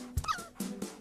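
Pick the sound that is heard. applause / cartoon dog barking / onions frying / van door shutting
cartoon dog barking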